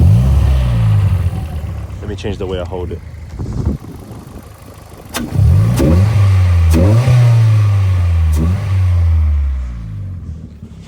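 A modified car engine revs repeatedly while driving, rising and falling pulls with gear-change dips and a steady intake drone between, close and loud, with someone briefly talking at the start.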